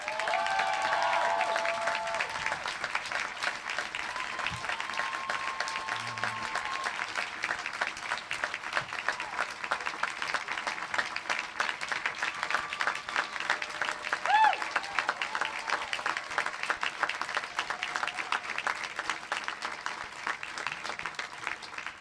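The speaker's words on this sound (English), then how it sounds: "Can we get a round of applause for Jon Else before" Sustained audience applause at a 2014 UC Berkeley graduate commencement ceremony, a dense, steady wash of many hands clapping that continues for over twenty seconds at an even level, with faint crowd voices mixed in.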